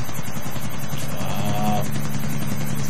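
An aircraft in GTA IV, a loud steady rotor-like thrumming drone with a pulsing beat, close and continuous throughout, with a short tonal whine rising midway.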